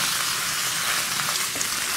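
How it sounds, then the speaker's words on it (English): Steady, crackling sizzle of Korean kalbi cooking on a hot grill, close and continuous with no talking. "Love the sizzle."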